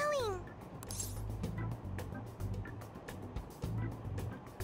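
A short electronic meow chirps at the start from a stuffed toy cat pressed on its head, followed by soft thumps and rustling handling noises close by.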